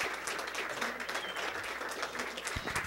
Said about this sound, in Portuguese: eu queria também pedir uma salva de palmas pro Lenharo